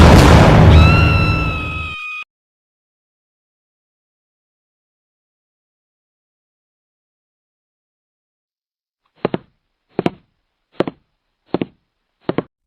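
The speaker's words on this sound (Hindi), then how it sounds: "यह तो बंदूक की आवाज थी।" Gunshot sounds in an animated kidnapping story: a dense burst of noise at the start, then after a long silence five sharp, evenly spaced shots, loud and close.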